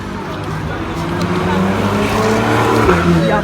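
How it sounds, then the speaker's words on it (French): Many cars drive along a crowded Paris street, making a steady, loud roar of engines and tires, with voices of people nearby mixed in. "Il y a plein de voitures"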